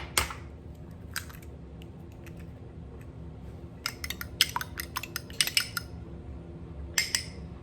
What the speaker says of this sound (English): I'm going to go ahead and crack my egg.